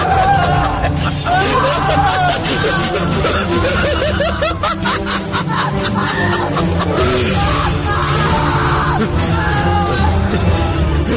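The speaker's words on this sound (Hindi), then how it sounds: "तो विशाल के हलक से भयानक चीखें निकलने लगी।" Screams and yells in a horror story drama, with a man shrieking in terror while another voice laughs and snickers, loud and continuous cries layered over each other throughout.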